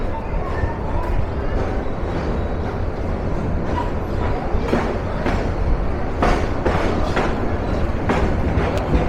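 The Kishoreganj Express, on its Dhaka to Kishoreganj run, pulls away from a station stop and rolls on, a steady loud rumble with faint rhythmic clicks and knocks throughout, heard from inside the train.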